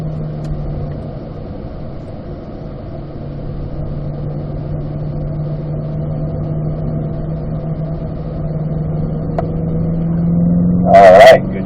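A race car engine holds a steady low drone in fourth gear on a slow cool-down lap, running evenly throughout and swelling a little near the end with a brief rattle.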